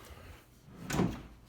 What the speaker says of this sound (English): So the drawer is on 4 extension drawer slides that go in and out.